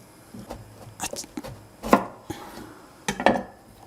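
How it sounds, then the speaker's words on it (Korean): A knife finely slices zucchini on a cutting board in quick irregular chops, close and crisp, with a few louder strikes and quiet gaps between. "이건 호박을 곱게 썰을게요"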